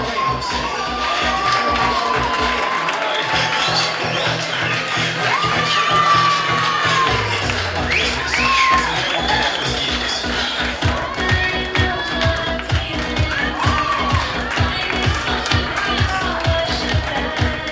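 A beauty pageant audience claps and cheers for contestant number nine, a lively crowd roar with scattered whoops and steady rhythmic clapping that builds and carries on, music faintly underneath.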